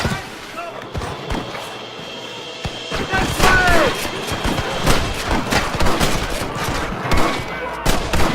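Gunshots ring out in the Western video game Red Dead Redemption as a shootout with scattered rapid cracks and bangs builds over ambient noise, with voices calling out in between.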